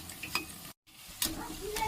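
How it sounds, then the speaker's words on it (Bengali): Cabbage pakoras fry in hot oil, a close crackling sizzle broken by sharp stirring scrapes and clinks, with a brief dropout to silence partway through. "এইভাবে আস্তে আস্তে বাকি পাকোড়াগুলো আমি ভেজে নিয়ে আবার ফিরছি"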